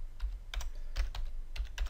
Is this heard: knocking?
no